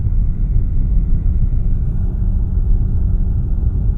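A sport trike's engine drones steadily on landing approach with the throttle eased back, a loud, even low rumble that holds without change and carries no talk over it.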